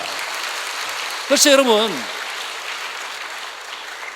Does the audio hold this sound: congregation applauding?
yes